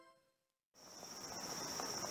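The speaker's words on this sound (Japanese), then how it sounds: "あ、でもセミ鳴いてるね。" Cicadas in the video game Tokimeki Memorial Girl's Side 4: a steady, shrill, high buzzing drone that starts abruptly after a brief silence and holds at an even level, alone without speech.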